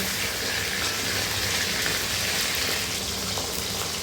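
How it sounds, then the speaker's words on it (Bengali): Pieces of wallago catfish sizzle in hot oil in a pan, a steady, even crackle and hiss that holds at moderate loudness throughout with no voices. "আবার সিমিলার প্রসেসে সেকেন্ড রাউন্ড ভেজে নেব"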